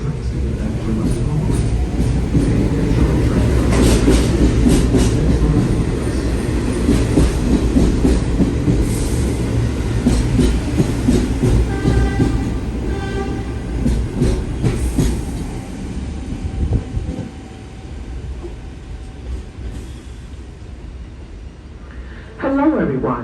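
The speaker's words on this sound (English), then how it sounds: "I'm going to take this train here to the beach 105th Street." A New York City subway train rides toward Beach 105th Street in Seaside, with a steady loud rumble and clickety-clack of wheels on rails throughout, the roar easing slightly near the end as the ride settles.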